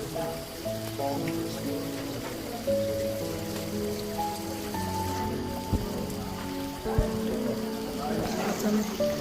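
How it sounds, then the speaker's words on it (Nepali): Water drips and splashes down from the rock ceiling inside a stone grotto in a park, a steady patter of falling drops under a murmur of nearby voices. "पानी झरिरहेको"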